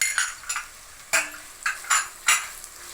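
A utensil stirs vegetables, green chillies and capsicum in a cooking pan, giving six or seven separate scraping clinks spaced unevenly over a few seconds, close and fairly loud, with no voices.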